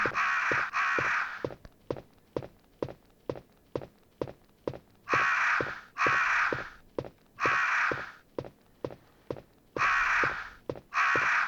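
Crows cawing in Resident Evil (1997): repeated harsh caws in short bursts, loud and close, with sharp footstep-like thuds ticking steadily between them.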